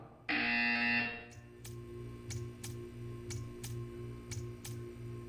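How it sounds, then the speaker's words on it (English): A loud electronic buzzer from the video game Portal 2 blares for about a second, followed by a steady series of sharp ticking clicks over a faint low hum. "When you hear the buzzer, stare at the art."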